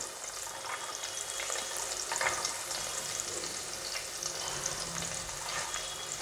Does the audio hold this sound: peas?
yes